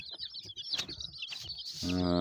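Chickens cluck close by, with quick high chirps throughout and a louder, drawn-out harmonic cluck near the end.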